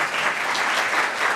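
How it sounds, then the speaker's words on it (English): Steady, dense applause from a conference audience at a management research panel, close and continuous with even texture throughout. "You can clap for it, nothing wrong."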